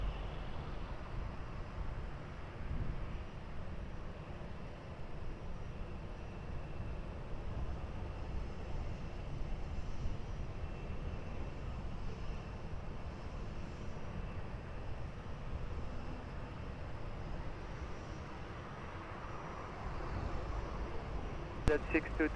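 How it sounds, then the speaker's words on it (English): An Airbus A330 airliner at Lisbon Airport gives a constant low jet-engine rumble for the whole stretch, steady and moderately distant, with no clear rise or fall. "Z622 Airbus 330 crossing the runway left to right"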